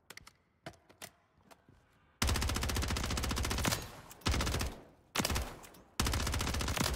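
Automatic gunfire from a weapon in MW3 Zombies, a Call of Duty video game: a few scattered single shots, then loud sustained bursts broken by short pauses, with no talk over them.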